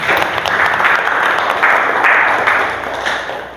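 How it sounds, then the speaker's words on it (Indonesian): Classroom audience applauding during a teaching session, a brief burst of lively clapping that holds steady and fairly loud before tapering off at the end. "Beri tepuk tangan buat Mbak Miftah"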